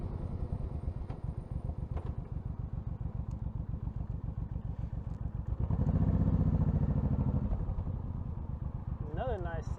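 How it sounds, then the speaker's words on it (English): A motorcycle engine runs steadily during an evening ride, a rapid low pulsing throb that swells louder midway, with wind rumble and a voice talking over it. "get to ride my motorcycle."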